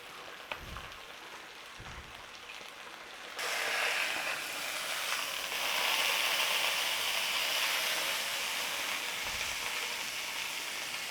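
Steak fat searing in a hot pan for Taiwanese black pepper steak, a steady crackling sizzle that swells louder after a few seconds and holds close and continuous.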